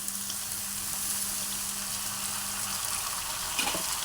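Ridge gourd and tomato pieces sizzle and fry steadily in a hot pan for a Telugu curry, a continuous close crackling hiss with no talk over it.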